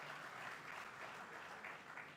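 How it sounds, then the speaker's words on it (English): An inaugural-lecture audience in a university hall applauds steadily. Dense, even clapping from many hands fills the short stretch at moderate, slightly distant volume. "Please a round of applause for them."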